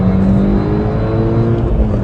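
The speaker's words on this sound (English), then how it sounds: "So second gear, a nice clean exit, accelerate out" An Audi, either an A1 quattro or an original Audi Quattro, pulls hard out of a corner in second gear on a track, its engine a loud, steady, close roar rising under acceleration.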